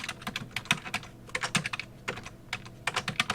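Rapid typing on a computer keyboard, a steady run of close, crisp key clicks with brief pauses, heard alone without any voice.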